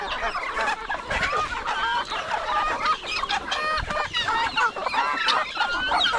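Chickens cluck steadily on a farm, a dense flock of overlapping close calls filling the whole stretch, with brief squawks rising out of the chatter.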